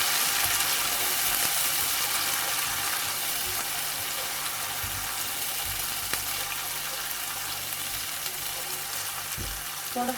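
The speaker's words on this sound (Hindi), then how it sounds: "जीरे के साथ थोड़ा सा इसको भून लेंगे। साथ ही मैं इसके अंदर ऐड करूंगी जिंजर गार्लिक पेस्ट।" Ginger garlic paste frying with cumin in a pan for a masala kabab karahi gives a steady, close sizzle that crackles evenly throughout without any talking.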